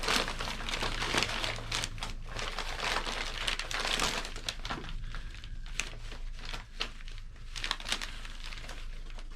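Thin brown tissue-like paper wrapping around an item from 1945 is handled up close and crinkles continuously, with dense bursts of rustling and crumpling and no voice.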